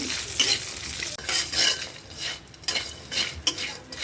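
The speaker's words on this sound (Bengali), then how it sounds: "এখন এই যে কুমড়ো বড়ি এগুলো আমি ভেজে নেব" Pumpkin lentil dumplings frying in mustard oil, with busy stirring and spatula scraping against the pan over a soft sizzle, close and uneven, no voices.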